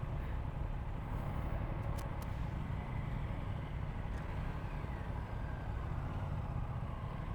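A 2025 Aprilia RS 660 motorcycle engine runs steadily just after starting, a low, fairly quiet idle rumble with a faint wind-like hiss, no talk over it.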